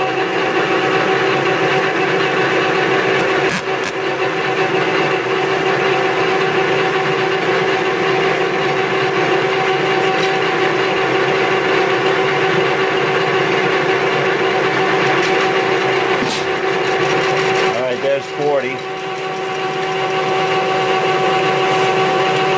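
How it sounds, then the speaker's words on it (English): A metal lathe turning a crusher part as the cutting tool chamfers the inner and outer edges, giving a steady loud machine hum with tonal whine, continuous throughout with brief scraping changes near the end. "We'll go ahead and chamfer this inside and outside like we did the other side."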